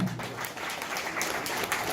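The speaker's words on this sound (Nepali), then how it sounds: "हामी यहाँले जोरदार ताली बजाइदिनु होला" Applause from the audience at an award ceremony honouring a journalist and writer, with dense, continuous clapping throughout.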